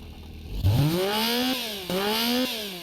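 A simulated go-kart-style engine built in Automation and driven in BeamNG starts up and revs in three rising pulls, a buzzy, thin-toned small engine climbing in pitch each time, heard alone up close.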